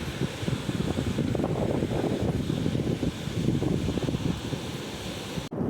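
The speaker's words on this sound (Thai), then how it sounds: "โอ้ลมแรงครับ" Strong wind gusts across a riverside in Anouvong, Xaisomboun, Laos, buffeting the microphone with heavy low rumbling and roaring bursts before a sudden brief dropout near the end.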